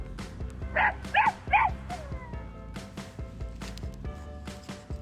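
A puppy yips and barks high-pitched in a quick burst of three, followed by softer whimpers amid background noise.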